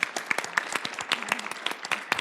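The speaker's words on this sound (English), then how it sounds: "How about a round of applause for our sponsors?" Audience applause at a West Virginia heritage panel event, dense steady clapping from a crowd throughout, fairly close and sustained with no talk over it.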